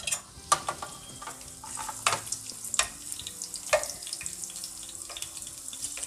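Green chillies dropped into hot oil for an Andhra crab curry, a bubbling, spitting sizzle with irregular clinks and scrapes of a spoon in the pan, close by and with no speech.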